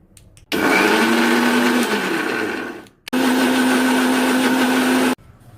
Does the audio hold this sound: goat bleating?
no